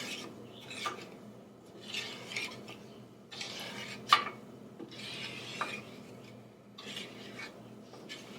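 Strawberry pie filling being stirred in a pot on the stove, with a soft, repeated scraping and rubbing of a spoon against the pot, plus a few light metallic clinks, fairly quiet throughout.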